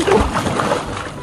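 A person dives into water with a loud close splash, followed by sloshing and gurgling.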